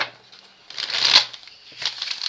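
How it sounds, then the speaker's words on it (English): A deck of tarot cards is shuffled by hand in two bursts of close, crisp card riffling and sliding, separated by a brief quiet gap, with no talking. "So let me shuffle one more time"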